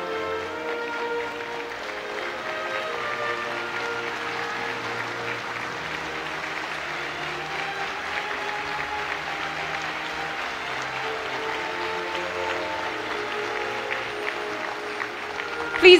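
Sustained applause from a formal audience at an ASEAN 50th anniversary ceremony, an even, unbroken patter of many hands lasting throughout, fairly distant and steady.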